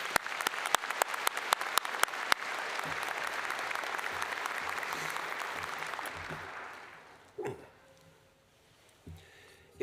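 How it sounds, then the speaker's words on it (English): Commencement crowd at a veterinary medicine graduation ceremony applauding for several seconds, dense and steady, then fading out to near silence with a couple of faint thumps at the end. "One more round of applause for Dr."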